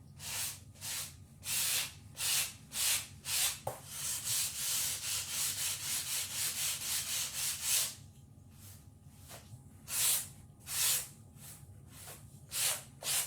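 Sandpaper rubs over a painted decoupage piece in rhythmic back-and-forth strokes, first in separate bursts, then a continuous stretch of scrubbing, then spaced strokes again, close and fairly loud with no speech.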